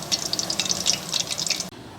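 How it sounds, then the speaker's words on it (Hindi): Aloo and onion pakoras frying in hot oil, a close, steady crackling sizzle with bright popping bursts that cuts off abruptly near the end. "बस अब हम इसे भी फ्राई कर लेंगे।"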